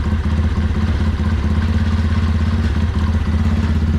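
A motorcycle engine idles steadily and loudly after its carburettor mixture is set slightly richer, a continuous low throbbing rumble with light mechanical clatter and no talking.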